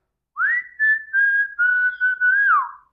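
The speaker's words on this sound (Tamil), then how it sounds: "இதே மாதிரி கன்னடத்திலயும் இன்னொரு பாட்டா விசில் அடிச்சிருக்காங்க" A single person whistles a short song melody from a Kannada film teaser, clear and close, phrased as a run of sustained, gently sliding notes with brief breaks and no other sound.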